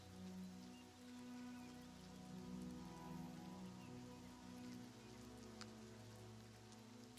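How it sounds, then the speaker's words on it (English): Steady rain patters across surfaces in the video game Oblivion Remastered, a continuous even wash of droplets with low ambient hum beneath, no voices. "ooh, rainy."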